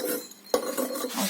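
Freshly glaze-fired ceramic plates and dishes are lifted from a kiln and set down, giving sharp clinks and scraping rubs of glazed pottery against pottery, close and clear.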